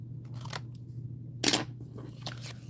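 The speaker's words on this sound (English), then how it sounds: "let me cut this apart so I can show you" Scissors snipping through the stems of a country flower bundle, a few sharp separate cuts with one louder crunchy snip in the middle, close and fairly quiet, with no talking.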